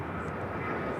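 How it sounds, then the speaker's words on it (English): A KLM Boeing 787-9 Dreamliner arriving from Amsterdam at LAX produces a loud, steady jet engine roar heard continuously in a brief burst. "KLM flight 601 coming up from Amsterdam, a 787-9."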